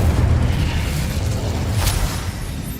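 Incendio fire spell cast in the Hogwarts Legacy video game, a loud, steady whooshing roar of flame with heavy low rumble lasting a few seconds.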